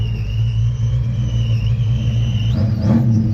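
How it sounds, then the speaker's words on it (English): A Ford Fox-body Mustang rumbles with a deep, steady low idle at a Fox Mustang restoration open house, then its engine note swells as the car pulls away near the end, loud and close, with no talking. "Fox is going for a ride in his car."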